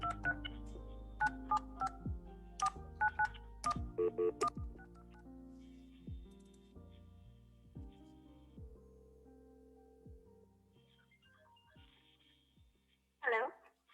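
A phone number is dialed to place a call: a quick sequence of close touch-tone beeps in uneven bursts, followed by a ringing tone and then a brief burst of other sound at the end.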